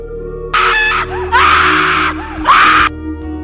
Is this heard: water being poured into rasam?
no